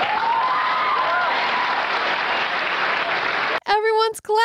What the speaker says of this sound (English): Everyone's clapping because George Lucas wants to do more with Disney.